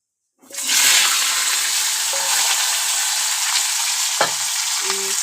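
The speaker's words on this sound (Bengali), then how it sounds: "আমি কড়াতে কালো জিরে ফোড়ন দিয়ে দিয়েছি।" Nigella seeds (kalo jeere) crackle and sizzle in hot oil in a kadai, a loud steady hiss that starts abruptly and holds throughout, with a brief clatter near the end.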